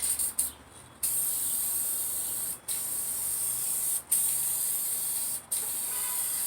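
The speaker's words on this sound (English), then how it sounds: "Let's give it another sprayage of this fine adhesive-y substance." An aerosol can of spray adhesive hisses in long, loud, steady bursts, close up, broken by short pauses between sprays.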